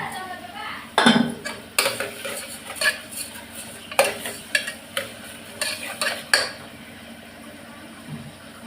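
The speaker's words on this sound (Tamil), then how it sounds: "நல்லா வதக்கி வச்சுக்கலாம். வெங்காயம் வதக்கட்டும்." Onions are sautéed in a pan for chicken gravy, with a spoon clinking and scraping in a quick, uneven rhythm over a soft sizzle, close and fairly loud, then easing off near the end.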